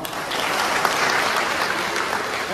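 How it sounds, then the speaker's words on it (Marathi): A crowd of villagers, many of them women from a fishing community, applauds loudly at a large gram sabha meeting about the Karanja–Revas bridge, a dense, continuous wash of clapping with no voices on top. "यासाठी जोरात टाळ्या वाजवा"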